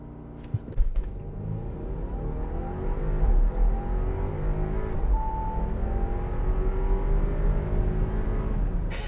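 A 2022 Audi Q5 45 with a 2-liter turbo and 7-speed dual-clutch accelerates hard from a standstill in a 0 to 60 run. The engine rises steadily through the gears, heard from inside the cabin with no talking.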